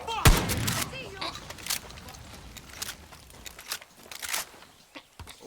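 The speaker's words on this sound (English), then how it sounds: "That's a shotgun." A shotgun blast in the video game Far Cry 6 opens with a sharp, loud crack, followed by scattered quieter shots, clanks and footsteps, with soft voices underneath.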